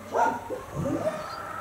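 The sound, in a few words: dogs barking and whimpering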